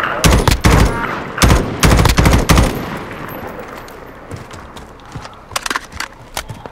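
Rapid bursts of automatic gunfire crack loudly in a video game firefight, tightly clustered over the first few seconds. Sparser, fainter shots and clattering follow as the shooting tails off.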